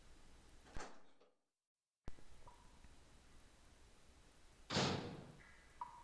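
A door opens in the Resident Evil Director's Cut catacombs as a short scrape, then a drop to silence. A heavier, louder creak and thud follows a few seconds later, with a faint mechanical tone near the end.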